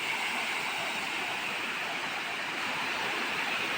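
Steady, loud rush of heavy flowing water, a continuous broadband roar like a swollen river, with no other sounds standing out.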